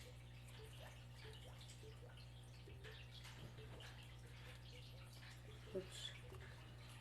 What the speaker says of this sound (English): then we'll just pour this in, which is our watermelon.